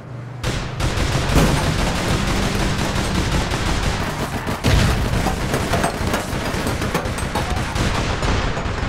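Heavy, sustained gunfire from the APB Reloaded game, rapid overlapping shots and bursts running continuously at close range, with a sharp louder crack partway through.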